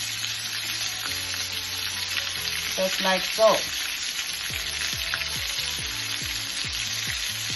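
Tofu pieces frying in a pan give a steady, close sizzle throughout, with a brief clatter and scrape midway as pieces are turned, while a voice speaks briefly.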